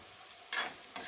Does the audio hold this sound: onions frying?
yes